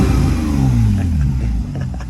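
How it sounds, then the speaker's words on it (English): A barn-find Ferrari's engine gives a short rev up from a rumbling idle and settles back down, loud and close, with no talk. "Give it one little rev for the neighbor."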